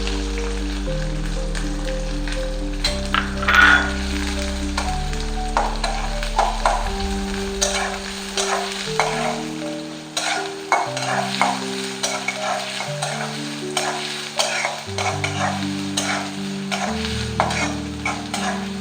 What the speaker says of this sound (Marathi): कांदा चांगला गोल्डन ब्राऊन होईपर्यंत आपल्याला ह्याच्यामध्ये शिजू द्यायचा आहे.